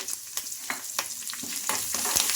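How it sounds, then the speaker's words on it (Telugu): Curry leaves frying in hot oil for a tiffin-centre chutney tempering, a steady close sizzle with scattered sharp crackles and pops, no voices. "ఈ కరివేపాకును కూడా బాగా ఫ్రై చేసుకోవాలి."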